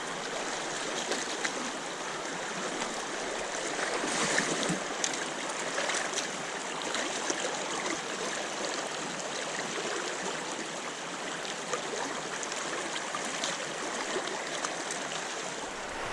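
River water of West Canada Creek flowing in a steady broadband rush, continuous and close, with no voices.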